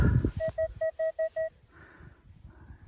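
A metal detector sweeping a garden plot gives a run of six steady, evenly spaced beeps over a buried target, loud and close, followed by faint rustling.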